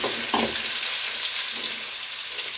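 Vegetables fry in a pan for a bottle gourd kootu, giving a dense, steady sizzle with a couple of brief stirring scrapes, close and with no voices.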